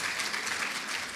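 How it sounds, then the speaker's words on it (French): Brief, fairly faint applause from a conference audience clapping for a professor after his talk, an even wash of many hands. "on va l'applaudir"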